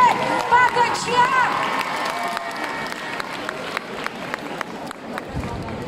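A hall audience at a Hmong New Year celebration in Lyon applauds and cheers after a dance performance, loud clapping and shouts at first that settle into sustained, slightly thinning applause.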